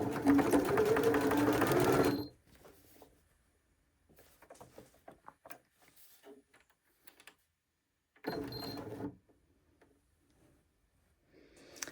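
A sewing machine set to its jeans buttonhole stitch runs loud and fast for about two seconds, then stops with quiet clicks and handling. A second short burst of stitching comes near the end.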